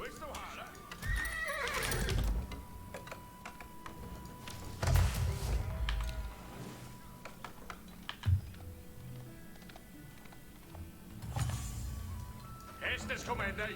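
Horses neigh and whinny amid clip-clopping hooves in the Age of Empires IV video game, with repeated loud bursts over a steady game bed, accompanied by keyboard typing and talking.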